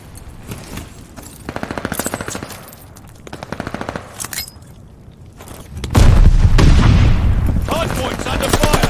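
Rapid machine-gun bursts and gunfire in a competitive team shooter match, loud and close, building into heavy sustained firing with booms in the second half, while players talk over it.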